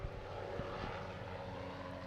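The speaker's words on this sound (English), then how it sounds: "Helicopter." A helicopter passes overhead, its steady, broad engine and rotor drone filling the whole stretch at moderate distance with no voices.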